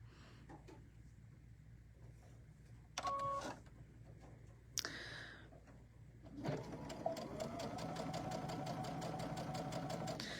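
A sewing machine stitches a Riley Blake Turkey Lurkey tabletop banner, starting after a few seconds of quiet room noise and brief clunks, then running as a loud, steady, rapid mechanical hum with even stitching pulses to the end.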